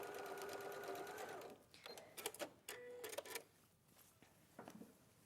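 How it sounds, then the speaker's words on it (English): A sewing machine with its standard presser foot runs a steady burst of stitching through fabric, then stops, leaving a few scattered clicks and handling knocks alone with no talk. "I'm just using the standard foot on the sewing machine"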